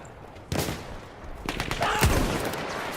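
Gunfire from a soldier shooting video game: an abrupt burst of shots opens the clip, then a longer run of overlapping reports and blasts continues to the end, loud and close.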